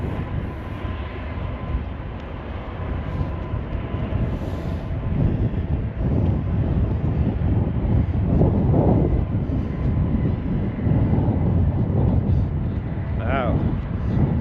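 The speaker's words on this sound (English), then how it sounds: "one is landing and one is taking off" A landing airplane's steady jet engine roar at a distance in Washington, D.C. swells and holds, with wind buffeting the microphone.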